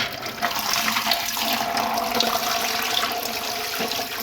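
Water runs steadily from a tap into a metal pressure cooker, a continuous rushing splash with no pauses.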